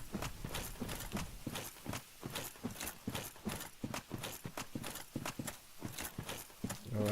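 Heavy, rhythmic footsteps of the armored Black Knight enemy in the video game Dark Souls, a steady clopping tread repeating for several seconds at moderate volume with no speech.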